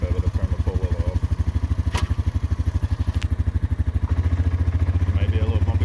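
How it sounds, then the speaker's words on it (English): A four-wheeler ATV engine runs steadily while being ridden on a farm homestead, a loud, close, rapid throbbing with occasional clatter and a slight rise in revs toward the end. "So now we'll go ahead and get on the four-wheeler. Probably a little loud"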